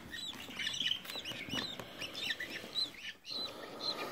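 Baby budgie chicks about three weeks old call with repeated high chirps and squeaky peeps, close and fairly loud, with a brief quiet gap near the end.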